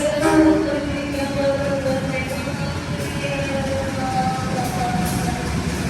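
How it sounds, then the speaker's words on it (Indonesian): Senja Utama Solo stainless-steel new-generation passenger train hauled by a CC 201 locomotive, a steady rumble of running carriages heard from on board, with tonal whines and faint rhythmic wheel knocks throughout. "Untuk lokomotif dari Senja Utama Solo ini menggunakan lokomotif CC 201."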